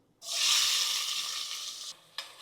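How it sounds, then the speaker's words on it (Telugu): Sliced onions dropped into hot oil, a sudden loud hiss that bursts in and slowly fades, followed by a short pause and a sharp tap. "ఈ ఆనియన్స్ కొంచెం ఫ్రై అయ్యేంత వరకు ఉంచుకున్నాం"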